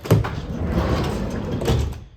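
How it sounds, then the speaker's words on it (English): Manual sliding door of an older Honda Odyssey minivan, from before the power-door buttons, rolls along its track with a broad, close whoosh, thudding at the start and again near the end as it moves. "This is a manual door."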